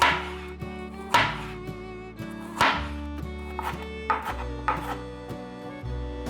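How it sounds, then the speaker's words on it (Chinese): A knife slicing bitter melon on a cutting board, with several distinct crisp cuts spaced a second or so apart over steady background music. "把苦瓜切片"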